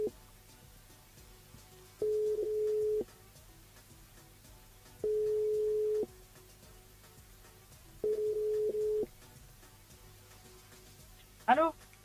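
A phone call from a radio station switchboard rings out in three evenly spaced, steady one-second ring tones over a faint hum, then ends with a short burst of sound as the line picks up.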